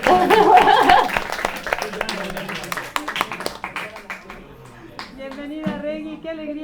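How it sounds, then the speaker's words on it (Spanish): An audience breaks into dense applause that thins into scattered claps and fades, with people starting to talk near the end. "Un aplauso. ¡Bravo!"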